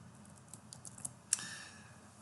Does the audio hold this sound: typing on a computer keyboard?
yes